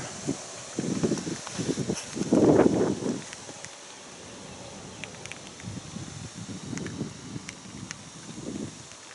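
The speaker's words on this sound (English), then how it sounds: "the wind kicks up" Wind gusts outdoors in an open car-wash setting, with soft, uneven blustery rustles rising and falling at moderate to low level, with no talking.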